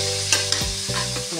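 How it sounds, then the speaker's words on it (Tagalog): Mixed vegetables are stirred in a pan for ginisang gulay, a few scraping strokes of a utensil over a low steady sizzle, close and brief, with nobody speaking. "Mix muna natin."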